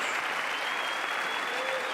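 Sustained applause from the audience in the chamber of Congress during a State of the Union address, a steady dense wash of clapping filling the whole stretch at even loudness.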